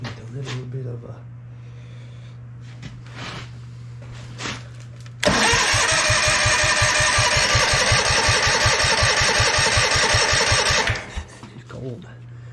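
A cold boat engine with a new carburetor cranks into life, firing in a rapid rhythmic chug that runs loud and steady for several seconds before cutting out, with scattered talk and clunks before and after.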